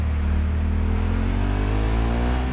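A car driven in the video game Cyberpunk 2077 through Night City, its engine humming and revving in a steady, continuous drone with rising tones, loud and unbroken throughout.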